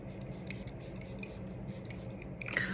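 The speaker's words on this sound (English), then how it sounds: "I'm gonna use this setting spray" Setting spray misted onto a face, a faint continuous hiss of fine spray that swells into a brief louder burst near the end, close and quiet with no talking.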